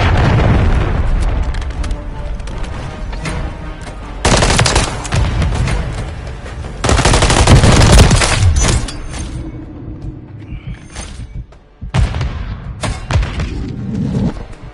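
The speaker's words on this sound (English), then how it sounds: "Friendly cruise missile deployed." Cruise missile strikes in Call of Duty MW3 hit as a run of heavy, close booming explosions. Several loud blasts are spaced across the stretch, mixed with crackling debris and bursts of gunfire.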